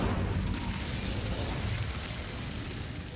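The Incendio fire spell is cast in the Hogwarts Legacy video game, a loud, dense roaring blast of flame that fills the whole moment without letup.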